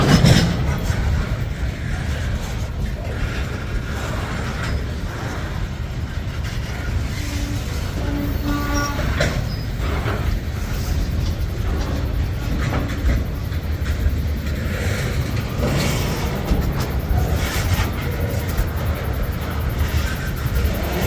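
Freight train rolling past in St Paul, Minnesota, a steady loud rumble and rattle of wagons with rhythmic clickety-clack over the rails, continuous and close for the full length, with no voices.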